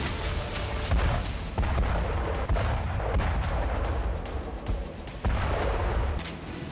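A self-propelled gun fires artillery rounds near Bakhmut, with repeated deep booms and sharp blasts rolling out over several seconds, loud and reverberant amid a constant rumbling background.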